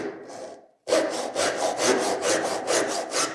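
A dozuki Japanese back saw cuts into wood in quick, even strokes, about a dozen rhythmic rasping pushes and pulls, close and loud, after a brief opening scrape and a pause.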